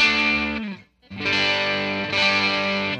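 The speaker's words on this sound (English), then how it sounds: "Mild overdrive." Electric guitar through a Caline CP-32 Clear Veil overdrive/fuzz pedal set for mild overdrive, loud sustained chords with a short gap before a strummed chord rings on.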